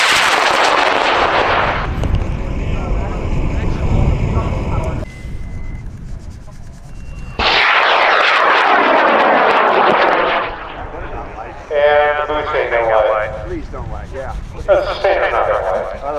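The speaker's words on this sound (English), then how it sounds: "rocket's going up in 5, 4, 3, 2, 1." A high power rocket with an H-135 motor lifts off at a launch event, a loud roaring rush that fades as it climbs, followed by further bursts and rumbling, with people talking nearby.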